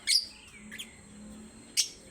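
Pet African birds chirp in a few sharp, high tweets, one at the start and another near the end, with a softer call between, fairly close over a low hum.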